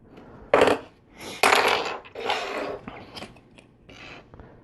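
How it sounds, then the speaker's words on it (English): LEGO pins snapping into pieces while building a LEGO Friends amusement park roller coaster set: several close, crisp plastic clicks and rustles in irregular bursts, with no talking. "some of those pins, when they snap in, they make a clicking sound"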